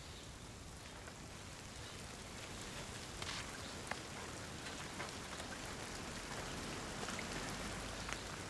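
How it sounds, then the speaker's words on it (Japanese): Steady rain falling during a sun shower in Edo-period Japan, a continuous soft patter on surfaces with scattered closer drops, moderately quiet and unbroken, no voices. "晴れているのに雨が降る、こんな天気のことだ。"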